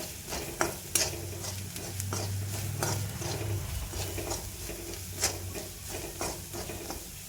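Spices, coriander-cumin powder, turmeric and Maggi masala, being stirred into pasta in a pan, with repeated scraping spoon strokes and a few sharper knocks over a steady low sizzle, close and fairly loud.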